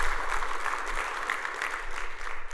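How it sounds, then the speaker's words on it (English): A conference audience claps for a speaker in dense, sustained applause that fills the room, steady and fairly loud with no voices over it. "How about a round of applause for him?"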